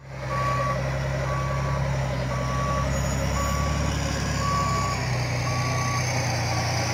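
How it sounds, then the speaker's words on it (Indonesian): Steady, evenly spaced reversing beeps from a sand truck ring out over its loud, continuous engine rumble, with no talking. "Di sini ada mobil truk pasir."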